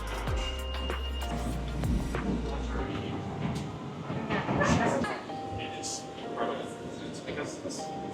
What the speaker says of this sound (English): It is loud all the time in the train